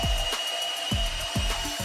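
A tool shaves down an aluminum support piece on a boat hatch lid, giving repeated rough rasping strokes in a steady rhythm, close and loud over a constant motor whine.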